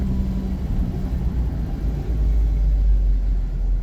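An Austin Princess engine runs with a low, steady rumble close by, rising slightly in weight partway through as the driver double clutches.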